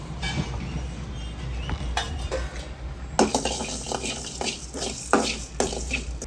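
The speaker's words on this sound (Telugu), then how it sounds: "ఆవాలు మెంతులు వేపాను, ఇక జీలకర్ర ధనియాలు వేస్తున్నానండి." Mustard, fenugreek, cumin and coriander seeds are dry-roasted in a pan, with repeated close scraping and rattling of a spoon against metal and small tapping clatters over a low background hum.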